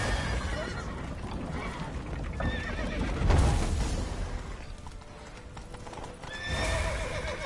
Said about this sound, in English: Mount the horse. Mount the horse!